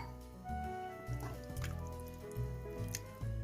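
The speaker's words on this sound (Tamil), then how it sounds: "இப்போ தேவையான இன்னும் 1 கிளாஸ் நம்ம பால் ஊற்றிக்கலாங்க." Milk, about one glass, poured into a pan of white pasta sauce with chilli flakes, giving soft close gurgling splashes and drips in short bursts over a quiet kitchen background.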